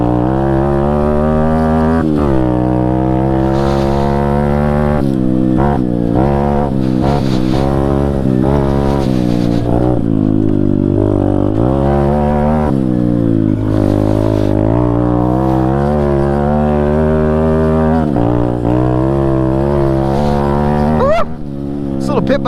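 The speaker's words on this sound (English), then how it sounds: "125 4-stroke pit bike, but it's kind of like a big pit bike, and it's a 4-speed, it's got a clutch, and I think it's got more power" A 125cc four-stroke pit bike with a clutch and four-speed gearbox revs loudly and steadily, its single-cylinder engine rising and falling in pitch through repeated throttle blips and gear changes, close up and alone for over twenty seconds.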